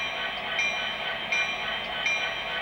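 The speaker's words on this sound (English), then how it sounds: "So here's the bell." A bell rings on an MTH HO scale SD70ACE model diesel locomotive, steady and sustained through its small speaker, with faint periodic accents and no voices.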